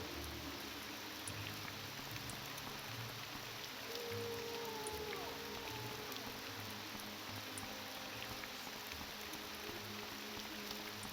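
Steady rain falling in the video game The Elder Scrolls III: Morrowind, a continuous soft hiss with patter, heard alone at low level throughout with no talking.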